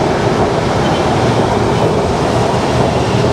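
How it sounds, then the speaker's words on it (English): A train rumbles past near MBK in Bangkok, a loud, steady roar of rolling wheels and rail noise that stays close throughout. "There goes the train again."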